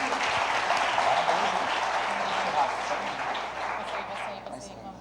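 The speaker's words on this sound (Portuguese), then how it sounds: "Vamos aplaudir Jesus." Congregation applause during a church celebration service, a full burst of clapping that gradually thins and fades toward the end, with murmuring voices beneath.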